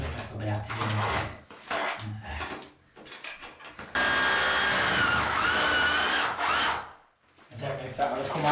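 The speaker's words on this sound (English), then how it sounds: "I'm going to try and angle my drill." A plumber's power drill whines in a sustained burst mid-way, drilling at an angle, surrounded by clunks, scraping and handling noises of tools and wood, with someone speaking intermittently.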